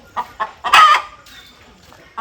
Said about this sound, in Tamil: முட்டை வைக்க போகிறதுக்கு முன்னாடி இப்படி தான் சவுண்ட் விட்டே இருக்குமா